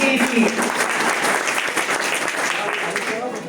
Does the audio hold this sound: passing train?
no